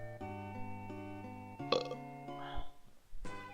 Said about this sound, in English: just the occasional little burp